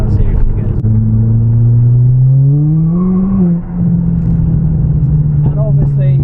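A 350 bhp Ford Fiesta ST with an aftermarket exhaust, tuned software and a big turbo drones loudly and close by, its tone rising briefly before settling back into a steady hum.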